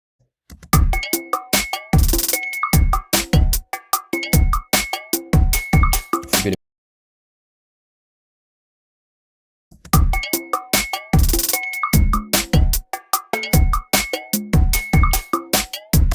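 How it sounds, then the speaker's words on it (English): Sharp, bright GarageBand conga hits play in a lively repeating pattern, stop for a few seconds of silence, then resume the same groove. "I think I want to get some congas in here."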